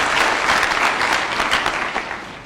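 Crowd at a Laikipia rally applauding loudly for Ndende Nyoro, a dense, continuous burst of clapping that stays strong throughout and eases slightly near the end.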